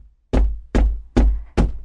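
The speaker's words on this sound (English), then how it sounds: "the fisherman went to the priest's house and knocked on his door." Four firm knocks on a wooden door, evenly spaced and close, each a sharp hollow thud with a short ring, alone with no voices.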